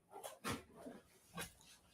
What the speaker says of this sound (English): My dogs went crazy.